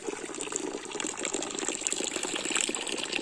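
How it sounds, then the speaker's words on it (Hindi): Water flows steadily from a natural spring emerging beneath tree roots in a village, a continuous close trickling gush with no voices. "उसके नीचे से ये देखो पानी निकल रहा है"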